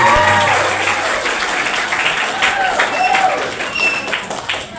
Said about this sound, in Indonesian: Tepukan dulu untuk anak-anak kita semua.